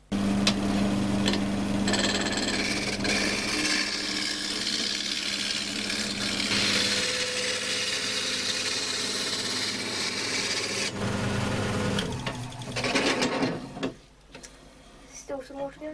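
Wood lathe turning a box blank down to a cylinder in a small workshop, a loud continuous rough scraping and whirring of the tool on spinning wood that stops abruptly near the end, with someone talking over it.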